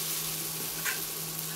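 A spicy Chinese-style dish sizzles and is stirred in a hot pan, with a continuous close hiss and a brief scraping swell midway as the food is moved around. No one talks.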